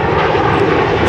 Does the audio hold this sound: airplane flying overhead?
yes